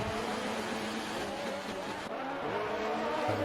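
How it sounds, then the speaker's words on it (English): A race car engine in an Xbox racing game on the Baku circuit screams at high revs, a continuous harsh whine that shifts pitch partway through as the car runs on, loud and close. "his engine is making it unbearable to listen to"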